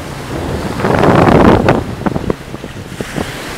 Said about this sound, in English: if you can hear any of this through the wind, this is Taino Beach.